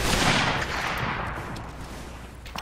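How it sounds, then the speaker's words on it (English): Big explosion in a Mount & Blade battle mission, a loud crackling blast that rolls out and slowly fades into a lingering rumble, with no voices during it. "I do love the big explosion though that I have set in the mission."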